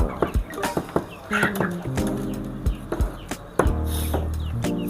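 Chickens cluck repeatedly close by in a coop, short choppy calls overlapping one another in an enclosed space, with no talking.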